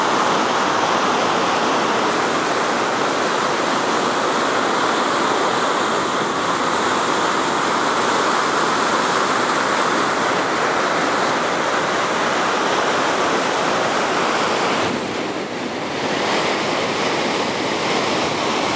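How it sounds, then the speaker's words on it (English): At the top of Vernal Falls in Yosemite, fast-moving water roars loud and constant, a dense, unbroken rush that dips only briefly near the end, with no voices heard. "Top of Vernal Falls. As you can see, the water is moving very fast."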